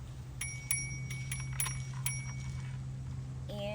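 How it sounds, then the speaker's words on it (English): Several quick bright dings from the bell on a pink titanium GS-5 folding e-bike ring out in an irregular cluster, clear but fairly quiet over a low steady hum. "a bell"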